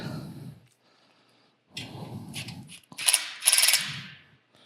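A power tool set to its lowest torque tightens bolts onto lock washers while a high speed sphere machine is assembled: several short whirring bursts with ratchet-like clicking, separated by brief pauses.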